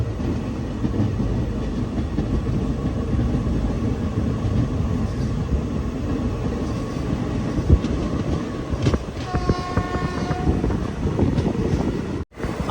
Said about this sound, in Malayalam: ഏഴിമല റെയിൽവേ സ്റ്റേഷനിലേക്ക് ഇതാ ട്രെയിൻ എത്തിയിരിക്കുകയാണ്.